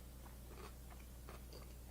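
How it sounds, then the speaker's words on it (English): Someone eating food that crunches like celery, with soft, close biting and chewing crunches repeating irregularly over a steady low hum. "You can hear the crunching."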